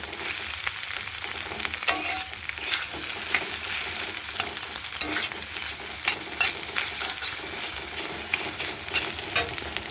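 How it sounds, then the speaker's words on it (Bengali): Eggs fry in a pan with soy sauce, vinegar and tomato, giving a steady close sizzle broken by frequent scraping, clinking stirs throughout, with no talking. "সোয়া সস, ভিনিগার, টমেটো সবার সঙ্গে দিয়ে দিলাম, দিয়ে এবার ভাজা ভাজা করবো।"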